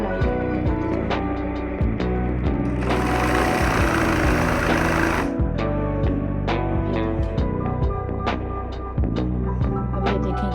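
A home sewing machine stitches fabric along a pant capri hem, a steady mechanical whir with repeated start-stop runs and a brief louder burst midway, running alone without talk.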